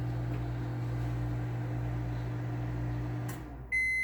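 A microwave oven hums steadily while melting white chocolate for about fifteen seconds, then the hum stops and a short series of bright electronic beeps follows, no talk.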